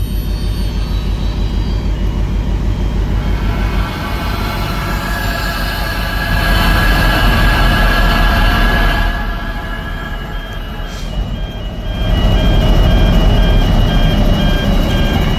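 Onboard a moving freight train, a loud steady rumble of rolling wheels and rattling cars fills the ride, with rhythmic clacking, tonal squeals and surges in intensity, no voices.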